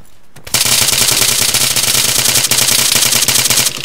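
Automatic gunfire in the video game Arma 3 rattles out as one loud, sustained rapid burst lasting about three seconds, close and alone after a short quiet start.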